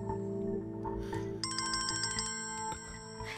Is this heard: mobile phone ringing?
yes